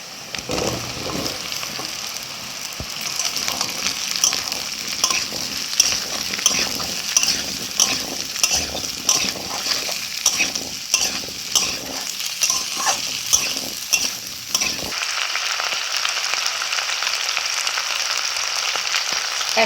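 Potatoes and browned onions frying in a pan, a constant sizzle broken by frequent metallic scrapes and clinks of a spatula stirring, then a steadier hiss toward the end, with no talking.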